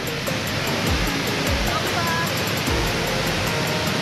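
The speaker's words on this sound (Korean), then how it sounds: "바다로 직접 폭포가 떨어진대." Constant roaring rush of Jeongbang Waterfall on Jeju falling directly into the sea, broad and steady like surf, with a voice faintly present underneath.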